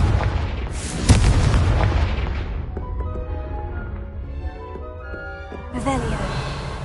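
A Confringo spell explosion in the video game Hogwarts Legacy, a sharp booming blast near the start followed by a decaying rumble, with another burst of impact noise later, and game voices beneath.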